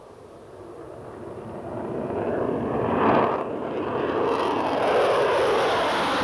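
A Concorde jet roars at McCarran airport in Las Vegas, a broad, steady engine rumble that swells toward the middle and stays loud and close throughout, with no voices.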